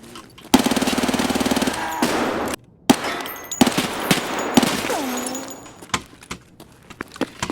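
Bursts of automatic rifle gunfire from hip firing in the video game Escape from Tarkov, a sustained rapid volley followed by shorter loud bursts and single shots, close and sharp.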